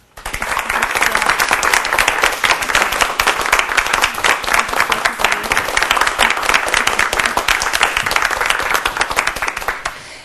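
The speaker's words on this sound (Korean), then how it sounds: "큰 박수로 맞아주시기 바랍니다" Loud, sustained applause from a large audience at a Korean lecture event on servant leadership, welcoming a university president to the stage; dense, even clapping fills the whole stretch with no talk over it.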